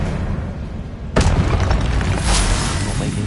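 An Incendio fire spell cast in Hogwarts Legacy erupts as a sudden loud boom, followed by a sustained roaring burst of flame over constant game background noise.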